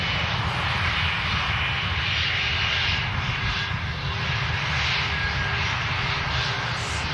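A twenty-year-old Airbus A320 airliner taxis quickly at Manchester Airport, its engines giving a loud, constant roar and whine close by that holds steady throughout.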